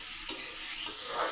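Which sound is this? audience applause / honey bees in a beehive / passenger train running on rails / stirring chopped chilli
stirring chopped chilli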